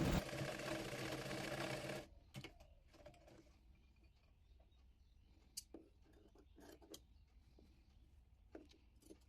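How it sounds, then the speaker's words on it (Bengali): A sewing machine stitches baby frock fabric in a loud, dense two-second burst, then stops, leaving quiet handling clicks and taps of cloth and tools. "এরপর সোজা দিকে আরমোল পট্টির কাপড়টি রেখে সেলাই করে নেব।"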